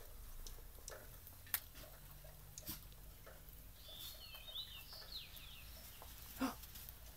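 Songbirds call faintly and at a distance in a snowy outdoor setting, with a few brief chirps over quiet, hushed background noise.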